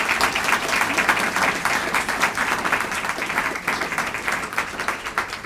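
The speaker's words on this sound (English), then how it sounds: "So if we could just give them all a round of applause here" An audience at a preservation awards ceremony applauds its honorees with dense, sustained clapping that fills the room at an even level from start to finish.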